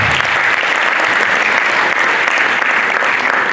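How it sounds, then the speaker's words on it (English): An audience at an international conference gives a round of applause for a professor, a loud, dense, unbroken roar of clapping filling the room from start to finish. "Please do us this favor by giving him another round of applause."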